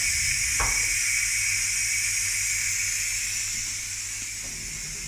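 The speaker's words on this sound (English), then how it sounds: "We're just letting the steam out now." Steam hisses steadily and loudly from a pressure cooker being vented after cooking beef brisket, a continuous broad rush that eases slightly toward the end, with a brief knock near the start and no talk.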